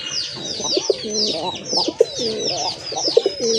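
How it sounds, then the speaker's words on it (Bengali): Local pigeons, including a male, give repeated close, throaty coos in a steady rhythm, while other birds chirp faintly in the background. "দেশি কবুতরগুলো কিন্তু খুব ভালো ডাকে"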